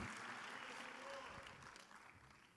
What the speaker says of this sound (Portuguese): Vamos aplaudir ao Senhor, queridos.